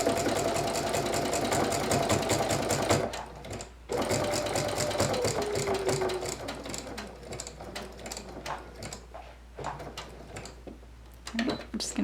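A sewing machine runs fast and close, stitching a triangular seam on plush fabric, stopping briefly, then continuing in shorter bursts with a quieter back stitch as the steady whir breaks into stop-start runs.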